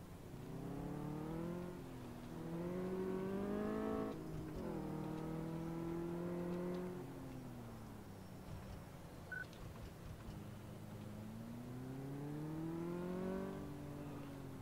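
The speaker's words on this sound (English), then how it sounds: "When it goes to shift gear, you can hear it." A car engine in Car Mechanic Simulator 2015 revs and climbs in pitch. A gear change breaks the climb, after which the engine drops, settles into a softer drone and slowly rises again, with no talk over it.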